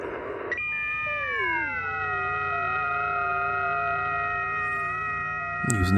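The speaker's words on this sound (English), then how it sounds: "Some FT8 digital mode here." FT8 digital mode signal received on a Sangean ATS 818 shortwave radio between 14000 and 15000 kHz, heard as a loud, steady stack of sustained tones that drone on continuously through the whole stretch, with no one talking.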